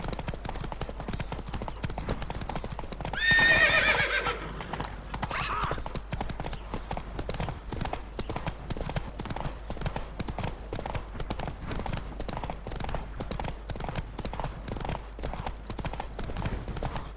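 A horse gallops at full speed in the video game The Witcher 3, its hooves pounding in a fast, relentless rhythm from start to finish, with a short whinny rising early on.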